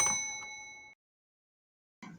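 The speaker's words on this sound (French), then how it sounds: "Activez la cloche de notification pour recevoir toutes les nouveautés." A bright notification bell ding rings once and fades out over about a second, followed by silence and then the start of another sound.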